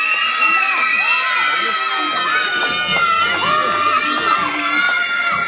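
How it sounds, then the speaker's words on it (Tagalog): A birthday party crowd, children among them, shouts, cheers and whoops loudly and continuously, a dense, close wall of excited voices with clapping mixed in throughout. "palakpakan lang na may kasamang sigawan yung malakas na malakas"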